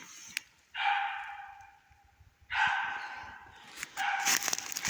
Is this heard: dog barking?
yes